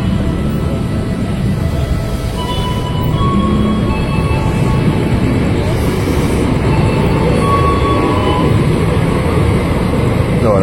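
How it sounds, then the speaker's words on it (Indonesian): Steady loud rumble of a KRL electric commuter train bound for Bogor pulling away from Cawang station, with faint motor whine rising over continuous rail noise. "Nah, KRL langsung berangkat lagi."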